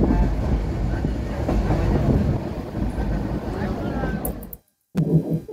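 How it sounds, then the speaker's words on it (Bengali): A passenger train rolls along just after leaving Airport station on a trip toward Cox's Bazar, giving a steady rumble heard from inside the carriage. The sound cuts out briefly near the end, then resumes. "অলরেডি ট্রেন ছেড়ে দিয়েছে এয়ারপোর্ট স্টেশন থেকে।"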